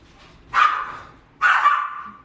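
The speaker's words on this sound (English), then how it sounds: "No, that's the dogs. They're playing." Chihuahuas barking while playing, with two sharp, fairly close barks about a second apart and quiet in between.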